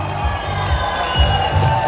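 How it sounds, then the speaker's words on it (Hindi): A crowd at an award ceremony cheers and applauds as a batch of names is called, forming a steady, dense roar of voices and clapping that fills the whole moment. "आप लोगों की जोरदार तालियों के साथ कम ऑन एवरीवन"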